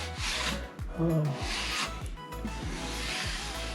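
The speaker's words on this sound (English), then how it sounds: "I'm going to use some really fine sandpaper to sand this down" Fine sandpaper rubs over a guitar body in quick, close back-and-forth strokes, a rhythmic scratchy rasp repeating steadily.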